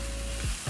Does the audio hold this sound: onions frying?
yes